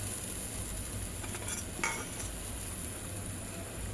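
Egg malai curry bubbles in a pan while being stirred, a soft continuous simmer and sizzle with faint utensil scrapes against the pan.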